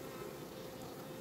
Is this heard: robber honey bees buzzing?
yes